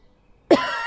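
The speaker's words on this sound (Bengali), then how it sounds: "এমন সময় মায়ের কাশি ওঠে" A cartoon mother, shown as unwell, lets out a single sudden, forceful cough after a moment of near silence.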